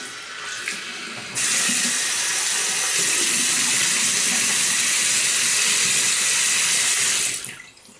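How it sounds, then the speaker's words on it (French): Tap water runs steadily into a bathroom sink while a freshly shaved face is rinsed, a loud broad rush lasting several seconds before cutting off, with no talking. "je vais me rincer la figure pour une troisième passe"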